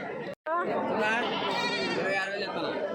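Goats at the busy weekly livestock market in Kadiri bleat loudly and close by in a long, wavering cry, heard over steady crowd chatter and people talking.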